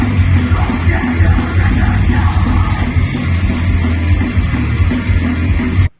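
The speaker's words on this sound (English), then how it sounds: "Double kick and screaming." A metal song with pounding double kick drums and screamed vocals, loud and dense from start to finish before cutting off abruptly.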